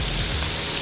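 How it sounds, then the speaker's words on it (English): Artificial rain pours steadily in an indoor rain room in Dubai, a dense, loud, continuous hiss of water striking the floor close by. "I'm in the middle of rain."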